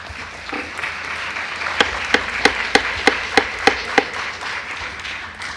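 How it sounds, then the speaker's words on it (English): At the 2014 annual town meeting in Dover, Massachusetts, a scattered round of clapping from the audience rises over a low murmur, with about eight distinct, evenly spaced claps standing out before fading. "if I could ask you to please hold your applause"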